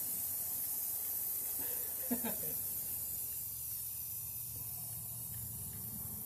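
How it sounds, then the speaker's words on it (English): A short burst of hissing aerosol spray paint sounds faintly over a steady background hum, with quiet sounds around it, while a rusty cabinet is painted in a workshop. "So, spray it, spray it, spray it, spray it."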